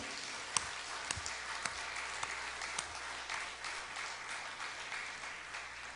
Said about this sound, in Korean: 우리 모두 하나님께 영광과 감사를, 찬양을 박수로 올려드립시다.